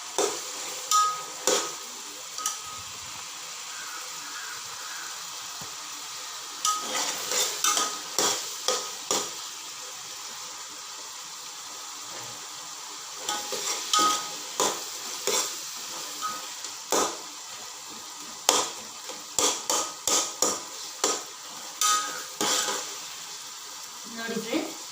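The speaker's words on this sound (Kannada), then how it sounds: "ನೋಡಿ ಫ್ರೆಂಡ್ಸ್, ಈರುಳ್ಳಿಯಿಂದ ಫ್ರೈ ಆಗ್ತಾ ಇದೆ" Onions frying in a pan for tomato bath, a steady soft sizzle running throughout with repeated bursts of stirring and scraping clatter from a spoon against the pan, close and moderately loud.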